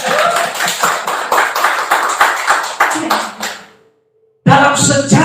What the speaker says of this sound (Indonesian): Kita beri tepuk tangan dulu buat kaum wanita.